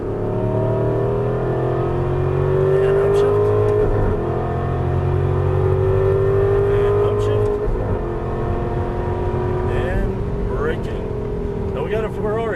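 An Aston Martin V8 Vantage on the Las Vegas Exotics Racing track, its V8 engine droning loud and close from inside the car as it rises and falls through gear changes, with someone talking over it.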